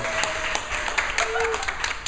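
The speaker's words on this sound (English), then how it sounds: "Can we get a round of applause for LaTice, please?" Audience applause and whoops at a comedy club, a steady dense wash of clapping filling the room, with cheering voices rising above it.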